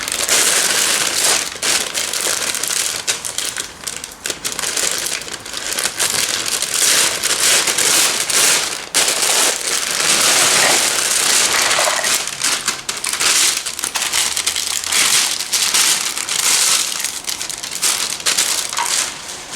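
Loud, continuous crinkling and crackling of stiff plastic wrap being torn open from a 1000-piece Schmidt puzzle box and handled close up, with no talking.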